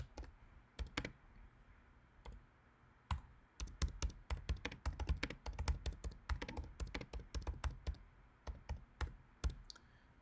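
Keys tap quietly on a keyboard as dialogue text is typed in sporadic bursts, with irregular clicks closely spaced in the middle and sparser at the start and end.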